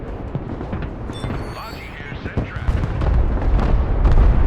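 Anti-air interception fire in the war game Broken Arrow: dense volleys of rapid gunfire and booming blasts crackle continuously, swelling louder and heavier toward the end.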